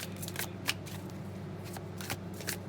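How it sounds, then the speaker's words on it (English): Tarot cards are shuffled by hand in quick riffling bursts with soft papery snaps, a close, fairly quiet flutter over a low background hum. "I'm going to shuffle."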